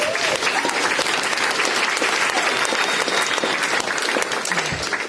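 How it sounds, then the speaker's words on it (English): An audience at a memorial gathering breaks into sustained applause, dense close clapping filling the room steadily before tapering slightly at the end. "Round of applause, please."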